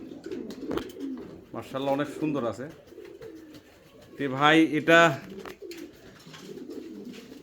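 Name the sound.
German Shield Grey Bar fancy pigeons cooing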